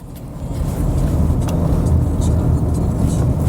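A 2023 Subaru Outback drives steadily with a continuous low engine and road rumble, fairly loud and close throughout.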